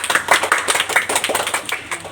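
A classroom group claps for a student presenter, a brief, dense patter of many hands close by, steady and even for about two seconds.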